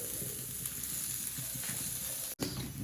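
Cumin seeds tempering in hot oil give a steady, close sizzle and crackle that runs throughout, with a brief dip near the end and no talking.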